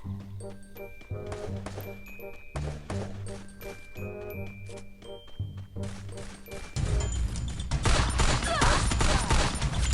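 Rapid bursts of gunfire crackle repeatedly in a rhythmic pattern, then erupt into a dense, loud volley near the end, with faint talk underneath, in the video game Free Fire.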